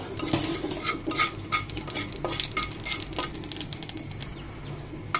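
A small amount of black cumin stirred in a pan: a rapid run of light metallic scrapes and clicks over a faint background hiss, close and without talk.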